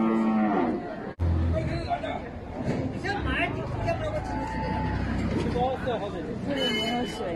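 Cattle lowing at a busy rural cattle market where large beef cattle are weighed and sold, moos rising over steady crowd chatter and nearby vehicle noise, with people talking throughout.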